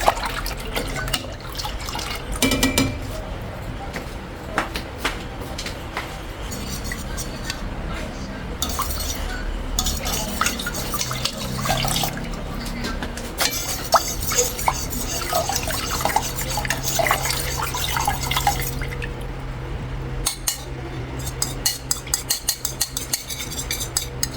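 Mango ice candy mixture being stirred with cornstarch in a bowl, steady liquid sloshing with light clinks of a utensil against the container and a low background hum.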